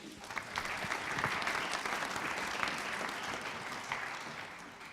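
An audience at a Dragons' Den-style aviation innovation pitch event breaks into sustained, even applause, a dense wash of many hands clapping at moderate distance that tapers slightly toward the end.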